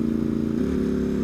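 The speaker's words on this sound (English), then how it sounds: "you drop it back a gear with the auto blipper" A Ducati SuperSport S motorcycle dropping a gear with its auto blipper, a loud close engine drone that shifts pitch briefly as the gear changes.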